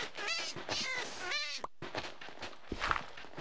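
A Minecraft cat from an FTB modpack gives a few drawn-out meows, clear and nearby, separated by brief pauses with faint shuffling between them.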